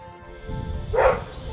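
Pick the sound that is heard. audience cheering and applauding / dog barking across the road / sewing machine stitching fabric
dog barking across the road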